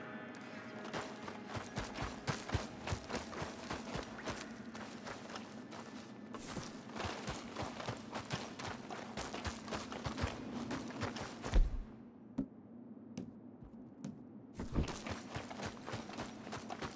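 Hooves of a horse in Red Dead Redemption 2 clip-clop steadily and fairly close, with a continuous rumbling background and occasional sharper knocks.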